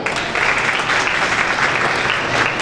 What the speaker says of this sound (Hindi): तो तालियां डबल होनी चाहिए.